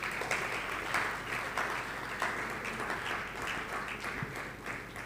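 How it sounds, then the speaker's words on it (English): Applause at the TotalEnergies Startupper awards ceremony in Nigeria, somewhat faint and roomy, with a few sharper individual claps standing out from the continuous crowd clapping. "Please, more applause"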